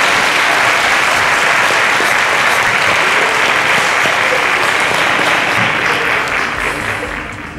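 Loud, sustained audience clapping for a contestant on a televised quiz show, a dense continuous roar of hands that tapers off slightly near the end.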